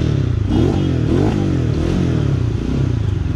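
A GTXL V4 Special Edition motorcycle engine runs close by, its low rumble holding steady with slight rises in pitch and faint mechanical clatter on top.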